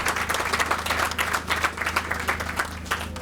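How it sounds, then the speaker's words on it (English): Steady, full audience applause at a university sod-turning ceremony, dense clapping from many hands held at an even level for several seconds, with a low hum underneath. "Another round of applause for Professor LenkaBula."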